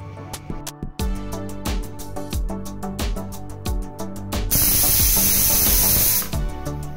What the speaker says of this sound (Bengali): মটর ডালগুলো এবার প্রেসারে বসিয়ে দিব সিদ্ধ করার জন্য